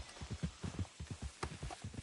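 Horse hooves clip-clopping in a video game, a steady quick walking rhythm of soft hoof strikes, fairly faint and heard alone without talk.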